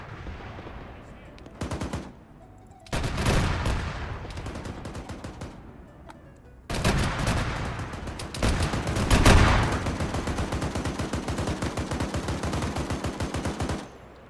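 An attack helicopter's main gun in Arma 3 hammers enemy positions in long, rapid bursts, loud and continuous through the second half after earlier shorter volleys, with someone talking over the firing.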